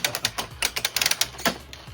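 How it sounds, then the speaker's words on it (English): Rapid plastic clicking from a toy dinosaur on a Hot Wheels garage playset, a quick irregular series of sharp close taps with no voices. "Why is the dinosaur making weird clicking?"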